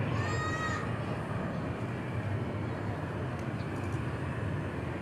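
An Embraer Lineage 1000 business jet taxis at Dallas Love Field, giving a steady, loud roar of jet engine noise with a thin whine near the start, with no voices.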